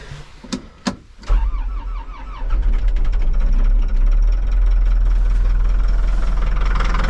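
A Cat loader's engine cranks after a few clicks, catches, and settles into a loud, steady diesel idle with a deep low rumble, close by and with no talk over it.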